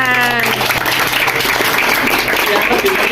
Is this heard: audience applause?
yes